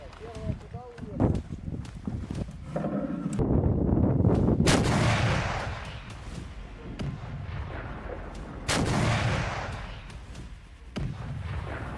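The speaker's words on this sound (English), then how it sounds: "Russian artillery is firing shells one after another." Russian artillery firing shells one after another, heavy booms and sharp blasts repeating every few seconds, with rumbling aftershocks and a voice briefly audible between the shots.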